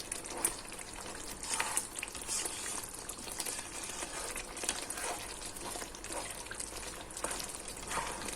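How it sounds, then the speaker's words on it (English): Sambal kerang with pounded lemongrass bubbles and simmers in a pan, a quiet, continuous crackling and bubbling with faint irregular pops, heard alone. "So we're going to let it boil a while more"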